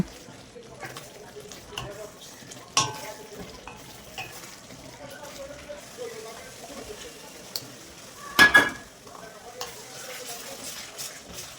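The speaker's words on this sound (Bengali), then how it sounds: "তারপর আমি এটাকে ভালো করে কষিয়ে নেব।" Spiced katla fish curry masala is stirred in a pan over a low, soft sizzle, with scattered spatula scrapes and knocks and one louder clatter near the end.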